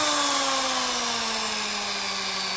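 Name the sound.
electric drill slowing down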